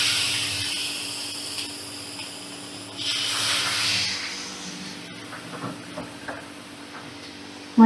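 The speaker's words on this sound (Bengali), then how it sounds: "আমি 2 কাপ দুধ দিলাম, আর হাফ কাপ জল দিয়ে দিলাম" Milk and water are poured onto semolina that has been fried in a pan over a high flame. A loud steamy hiss swells midway, then dies down to soft crackles and bubbling, with no speech.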